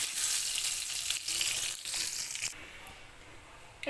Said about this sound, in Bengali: মাছের জন্য একটু লম্বা লম্বা মোটা মোটা করে আলু কেটে নিয়েছি ভেজে নিচ্ছি